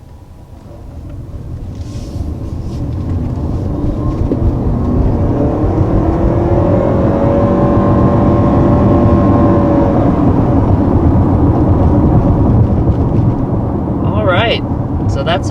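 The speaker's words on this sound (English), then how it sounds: "So that's our first acceleration here in this all-new 2020 CR-V Hybrid." A 2020 Honda CR-V Hybrid accelerating, heard from inside as a low rumbling engine and road noise that swells and holds steady with a rising whine, loud and continuous throughout.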